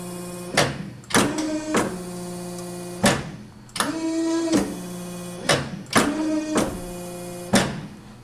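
A Muller SLDE 150/4 mobile drum handler, rated 250 kg, runs its electric lifting mechanism in a series of whining motor bursts. Each run is short and steady with a clunk at start and stop, close by, with no talking.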